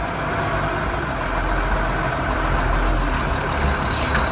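A yard jockey truck idles loudly as it reverses toward a trailer hitch, a steady close diesel rumble with a faint high beep near the end.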